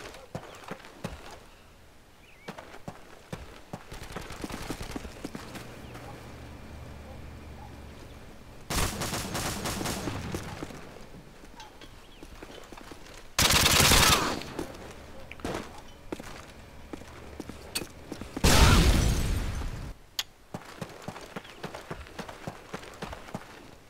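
Gunfire in Call of Duty: Modern Warfare 2 on PC, scattered sharp shots and footsteps with several loud sustained bursts of firing, no talk.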